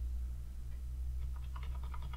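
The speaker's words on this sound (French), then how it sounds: "Tapons à nouveau sur la touche marquée d'un point dans le clavier numérique." Faint clicks of keys on a computer keyboard's numeric keypad, a short burst of quiet taps late in a soft background hum, with no talking.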